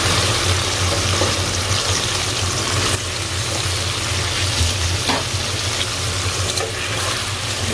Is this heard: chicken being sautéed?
yes